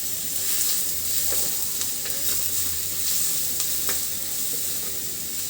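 Chopped onion frying in a pan, giving a steady dense sizzle throughout with a few soft scrapes from stirring layered on top.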